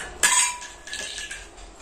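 A toy pressure cooker from a child's cooking set is handled, giving a sharp metallic clink followed by softer rattles and light knocks, close up and fairly quiet.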